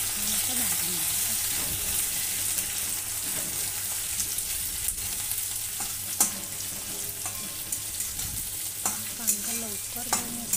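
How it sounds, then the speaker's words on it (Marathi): Thinly sliced onion for kande pohe fries in a pan with a continuous soft sizzle. Close, uneven scrapes and clicks of a spoon mark the stirring, with no talking. "सॉफ्ट होईपर्यंत कांदा छान असा भाजून घ्यायचा।"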